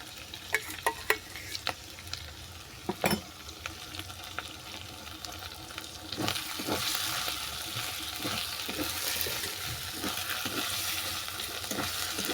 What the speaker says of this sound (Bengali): লঙ্কাটাকে ভালো করে মিশিয়ে নিচ্ছি